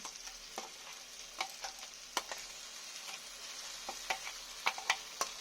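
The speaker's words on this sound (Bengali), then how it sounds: "এটাকে আমি দিয়ে দেবো এই মশলার মধ্যে" A paste of fried okra is stirred into spices frying in a pan, giving a soft, steady sizzle broken by intermittent scraping clicks of the spoon, with no talking.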